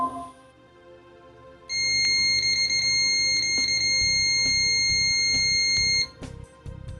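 Continuity beeps from a BTMETER BT-770S multimeter sound loud and close, a steady high tone holding for about four seconds, with a few shorter beeps after it.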